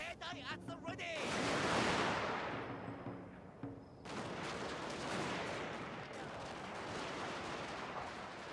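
Rifle volley gunfire from Shogun 2: Fall of the Samurai on a forest battlefield, a loud roaring burst of massed shots swelling early, then a sustained rumble of continuing fire and battle noise.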